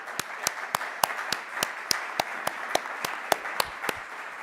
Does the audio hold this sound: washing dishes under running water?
no